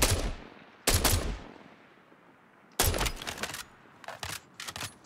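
Assault rifle fire in the space shooter Star Citizen: a single loud shot, then after a pause two quick bursts of rapid shots, with softer short bursts trailing off near the end; no talking.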